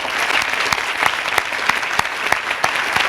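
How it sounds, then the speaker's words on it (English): Audience at a school recognition ceremony gives a full round of applause, a thick continuous wash of many hands with a few louder individual claps standing out at regular intervals. "please join me in giving all Cardigan boys, no, all Cardigan scholars, a well-deserved round of applause"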